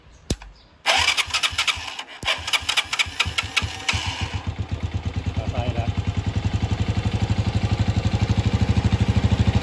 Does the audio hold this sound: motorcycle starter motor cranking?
yes